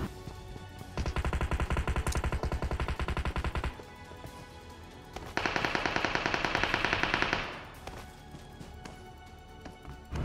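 Rapid gunfire in a 1v6 fight in PUBG Mobile, heard as two dense bursts of fast repeated shots, loud and close, separated by a brief quieter gap.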